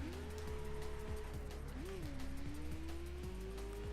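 A Mazda MX-5 accelerates from 0 to 60 in the racing game The Crew Wild Run. The engine note climbs steadily, dips once at a gear change, then keeps rising at a constant loud level.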